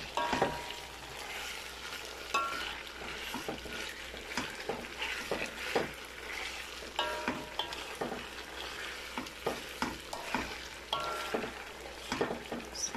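Spicy Bicol Express stirred and frying in a pan, a steady sizzle broken by repeated scraping and clanking strokes of the spoon at an uneven rhythm, close and clear.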